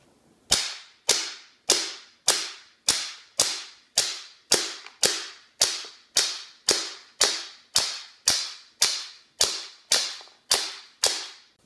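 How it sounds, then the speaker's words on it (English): An Umarex H&K USP CO2 BB air gun firing at a target 15 feet away, about eighteen sharp, loud cracks at a steady pace of roughly one shot every half second, close and alone. "Now, let's shoot a target from 15 feet away."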